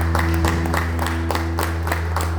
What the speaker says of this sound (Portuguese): E você dá uma salva de palmas